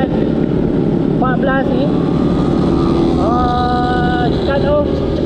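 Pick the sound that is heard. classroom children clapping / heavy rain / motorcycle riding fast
motorcycle riding fast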